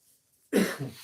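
A single sharp, close cough bursts out after a near-silent moment, then trails off quickly.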